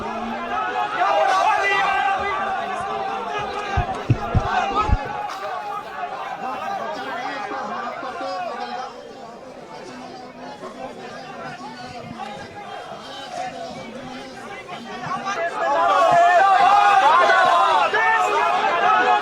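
Protest crowd gathered outside an AI Summit, with police moving it off, heard as a dense babble of many voices, shouting and chatter, swelling louder near the end.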